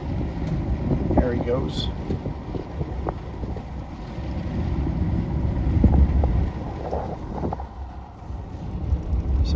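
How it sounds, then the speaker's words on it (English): Wind gusts buffet the microphone outdoors near cotton fields in Refugio County, Texas, producing a continuous rumbling roar with some distant boat-like engine noise, and a person speaks briefly. "There was no wind at Rockport Beach this morning, but it certainly feels like it's picking up here."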